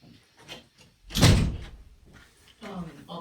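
A door shuts with a single loud thud up close, set among casual voices talking before and after it at home.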